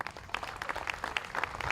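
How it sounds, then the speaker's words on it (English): Audience at a county fair queen pageant applauds a candidate, a steady dense patter of clapping from a crowd, moderately loud and continuous with no talk over it. "Give all of our candidates a big, big round of applause"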